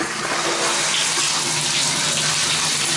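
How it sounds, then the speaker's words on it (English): Hot water gushes from the faucet of an original cast iron bathtub, a loud, steady rushing splash that continues unbroken throughout. "you can see the water pressure is good and it's draining, and that's just the hot water"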